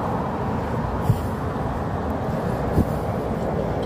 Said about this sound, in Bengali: উপরে ট্রেন চলে